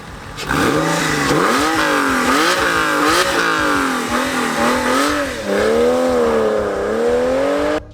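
A Porsche 911 (996) engine revs hard several times, its pitch climbing and dropping in quick rasping bursts, loud and close with no talking.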